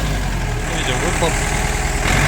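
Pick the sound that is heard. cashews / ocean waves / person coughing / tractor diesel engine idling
tractor diesel engine idling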